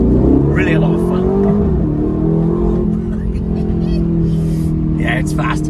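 A 2025 Aston Martin Vantage accelerates hard, its engine note loud and rising, then settling into a sustained high drone as the car gathers speed. Someone talks over it in the cabin.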